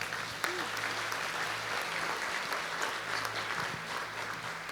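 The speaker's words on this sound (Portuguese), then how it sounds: "Você pode dar um aplauso a ele?" A church seminar audience gives a steady round of applause, dense clapping that runs evenly from start to finish at moderate distance, with no speech over it.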